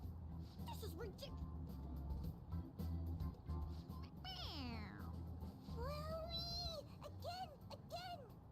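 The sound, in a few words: toy cat meowing when its head is pressed, Persona 5 Royal video game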